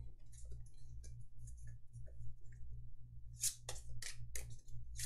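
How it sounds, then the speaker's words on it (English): Game cards from a Hero Realms deck pile-shuffled onto a table, producing a run of light, crisp clicks and card slaps, quiet at first and then a tighter cluster of sharper snaps near the end, over a low steady hum. "Real quick pile shuffle for some more randomization."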